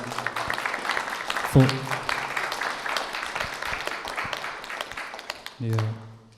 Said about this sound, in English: We get a clap for that?